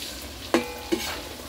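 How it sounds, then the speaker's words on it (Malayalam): Fish sizzling in a frying pan as it cooks for fish pickle, a soft steady hiss with two brief clinks of a utensil against the pan. "മീനച്ചാറ് വേണ്ടിയുള്ള മീൻ ഫ്രൈ ചെയ്തുകൊണ്ടിരിക്കുകയാണ്."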